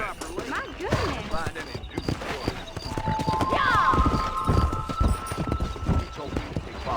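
Hooves clip-clop in a fast gallop as a horse is ridden in the video game Red Dead Redemption. The hoofbeats are loud and rhythmic, a horse whinnies partway through, and someone talks over much of it.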